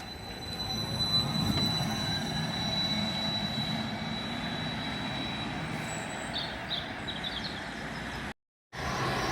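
Ride on the rear of the upper deck of a bus on an Easter Sunday route: a steady, loud engine drone and road rumble with rattling body noise throughout, briefly cutting out near the end.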